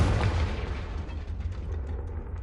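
Confringo spell explosion in Hogwarts Legacy: a loud, deep blast with a heavy low rumble that starts at full force and slowly fades over about two and a half seconds.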